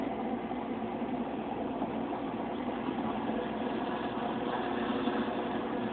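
A potter's wheel spins near its top speed during a throwing demonstration, giving off a steady, even motor hum and whir that holds constant for the whole stretch.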